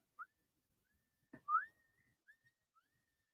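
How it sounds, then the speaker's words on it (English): Someone whistles on a college football livestream, giving a few short, thin notes and one longer sliding pitch, set apart by silence and fairly distant. "there's a guy whistling on the stream non-fucking stop"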